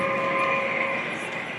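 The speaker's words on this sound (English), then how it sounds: "Let's follow the train." A G scale model freight train, a circus train, runs on an indoor layout with a yard at a show in Springfield, Massachusetts, giving a steady close mechanical hum with sustained tonal whine, and no talking.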